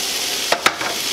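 A roux of flour and milk bubbling in a pan for biscuits and gravy, a soft steady sizzle with two small pops close by, no talking.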